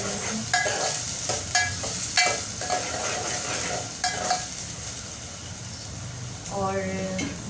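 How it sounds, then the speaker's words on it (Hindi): Onions fry in hot oil in a home kitchen, a steady sizzle broken by repeated scraping stirs and clinks of the utensil, with a faint voice near the end. "ऑयल पहले से ही गर्म है मेरा, ऑयल मैंने डाल दिया था। अब मैंने प्याज डाल दिया था"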